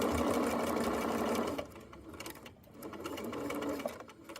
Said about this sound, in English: I'll lower my presser foot, and I'm going to backstitch and sew all the way around.